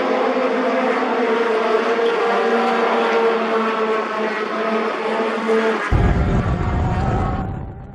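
A race car engine on the Sonoma track howls at high revs from close inside the cockpit, holding a strained steady whine before an abrupt shift drops the tone and the sound fades out.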